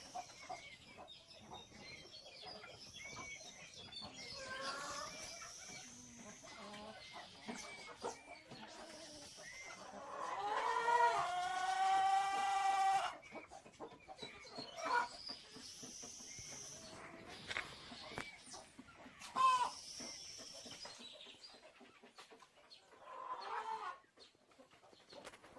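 Hens in a farm coop on a small French poultry farm, clucking and cackling near and far over a quiet background, with one longer loud burst of squawking in the middle.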